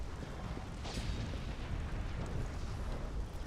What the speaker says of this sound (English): having an explosion go off right in our face